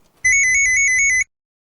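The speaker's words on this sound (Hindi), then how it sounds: "अरे 1 मिनट, मेरा फोन बज रहा है, जरा निकालो।" A mobile phone rings with a single burst of rapid electronic beeping tones, loud and close, lasting about one second before cutting off into silence.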